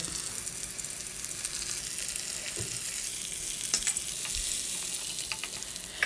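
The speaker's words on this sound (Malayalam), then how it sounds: "അപ്പോൾ അത് നല്ലണ്ട് ഉണങ്ങിയ മാതിരി വറുത്ത് വേവിക്കുക" Steady sizzling and crackling of food frying dry in a pan with curry leaves, with occasional stirring scrapes, continuous and fairly close.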